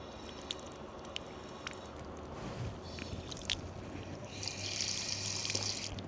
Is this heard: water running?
yes